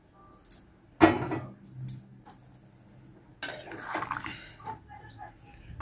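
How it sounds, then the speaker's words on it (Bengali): Hot water added to chicken cooking in a pot: a brief pour with clinking of utensils against the pot, then softer stirring and scraping, close and quiet. "একটুখানি গরম জল দিলাম, এগুলো যাতে একটু সিদ্ধ হয়।"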